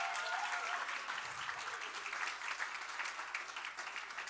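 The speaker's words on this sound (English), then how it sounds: "let's give them a round of applause" A school audience at a national grand final claps in a steady, moderately quiet round of applause, a continuous patter of many hands without voices.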